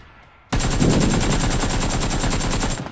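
An AK rifle fires full-auto in the battle royale game PUBG, a sudden loud stream of rapid, evenly spaced shots that starts after a short quiet moment and continues unbroken for over two seconds.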